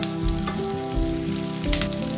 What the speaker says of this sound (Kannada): ನಾನು ಒಂದೊಂದೇ ಹಾಕ್ಕೊಂಡು ಒಂದೇ ಸಲಿನೇ ಎಲ್ಲ ಉರಿತೀನಿ